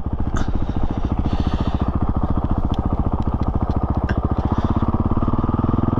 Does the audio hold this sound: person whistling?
no